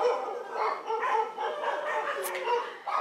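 Dogs bark and yip, wound up by rain and thunder, in a busy mix of overlapping short barks and whimpers at moderate distance, with a voice talking among them.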